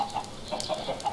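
Chickens in a crowded pen of about sixty birds in the video game Kingscraft 2, soft overlapping clucks and brief chirps packed into a second, fairly faint.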